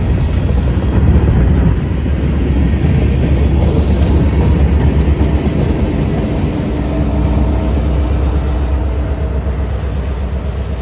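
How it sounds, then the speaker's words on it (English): A heavy EMD GP38-3 diesel locomotive rumbles steadily at close range, shoving a CSX freight train backwards, a loud continuous low drone with rolling train noise throughout. "EMD GP38-3 SpongeBob cab, known by rail fans, number 2025, shoving the train backwards back to Lakeland."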